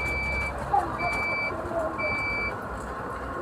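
A laundry machine still on its time lock gives short, evenly spaced electronic beeps, one about every second, over a low background rumble.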